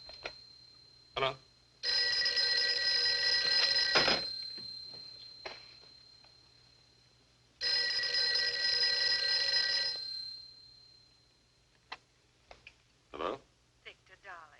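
Telephone bell ringing in a 1948 film noir: two long, loud bursts of an electric bell separated by a pause, with brief clicks and faint voices around them.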